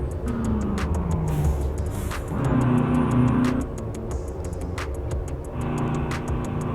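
Renault 9 car engine in Euro Truck Simulator 2 idling and revving with the choke pulled, a steady motor drone rising in pitch twice with faint ticking clicks over it.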